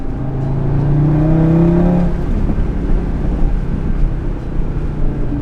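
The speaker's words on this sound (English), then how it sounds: "Oh man, this car sounds so good." An Audi car engine drones while driving, first with a rising, tonal pull under acceleration for about two seconds, then settling into a loud, rough, rumbling cruise close by.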